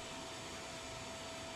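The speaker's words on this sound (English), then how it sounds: "Dust and water will be sucked out of the coil and into the vacuum cleaner." A vacuum cleaner pulls dust and water from an aircon evaporator coil, giving a steady, even whooshing roar with a thin whine, close and constant, with no voices.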